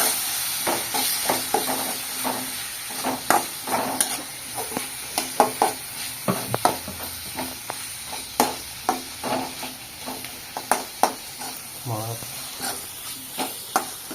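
Tomatoes frying in oil in a pan for a dried-fish curry, stirred repeatedly with a spatula that scrapes and taps in an irregular rhythm over a steady close sizzle.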